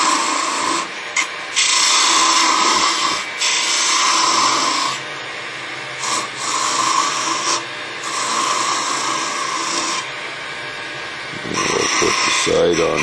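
A wood lathe spins an acorn while a skew chisel cuts it, making a continuous loud rasping, shaving hiss broken by a few short pauses as the tool lifts off, close by and steady.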